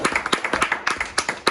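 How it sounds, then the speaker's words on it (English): Attendees at a town board meeting clapping, a sparse, uneven run of distinct hand claps from a small group, close and crisp, with no talking over it. "Let's all give it a clap."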